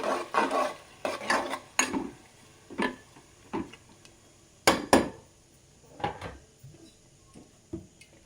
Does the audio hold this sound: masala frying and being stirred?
yes